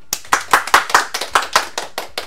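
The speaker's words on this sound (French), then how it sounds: "On peut l'applaudir." An audience claps for a student at a school event, about a dozen sharp, slightly uneven hand claps in quick succession, close and loud with no talk.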